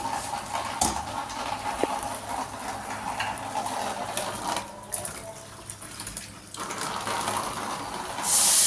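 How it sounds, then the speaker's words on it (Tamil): Water pours into a pan with a rushing, bubbling splash that sputters and changes pitch, near and moderately loud, with a few utensil clinks. "தேவையான அளவு தண்ணி ஊற்ற போகிறோம்."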